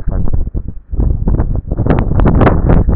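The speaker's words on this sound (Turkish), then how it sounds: "Hop rüzgarım esiyor efendim." Gusting wind buffets the microphone outdoors, a loud, continuous rumble with fluctuating bursts and no speech.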